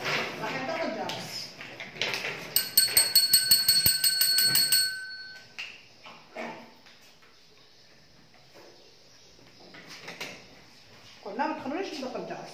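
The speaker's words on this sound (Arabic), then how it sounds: "راح ندق الجرس" A handbell rings in a preschool classroom, a bright metallic ringing of about three seconds among quick taps, with a teacher's voice before and after and quiet gaps in between.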